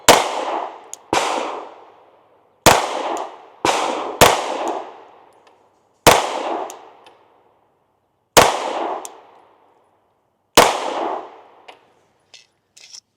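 Glock pistol shots fired with Federal 124 grain +P ammunition outdoors: eight sharp, loud reports spaced a second or two apart, each with a short ringing decay, plus faint clinks near the end.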